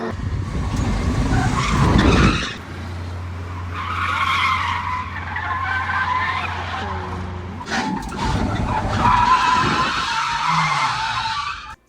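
A drift truck with a welded differential skids and spins out on a track, its tires squealing loudly and almost without a break, with the engine droning steadily underneath.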